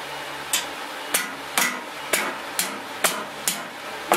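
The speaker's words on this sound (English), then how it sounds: "Are you in love with the hammer hitting?" A hammer strikes wood during box building, eight sharp evenly spaced blows landing about every half second, loud and close with no talk.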